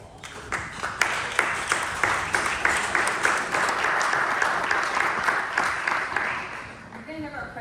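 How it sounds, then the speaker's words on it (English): An audience gives board members a big round of applause at a speaker event, a dense steady wash of clapping that swells and carries on for several seconds before thinning out, with faint talk underneath. "Would you stand and let's give them a big round of applause."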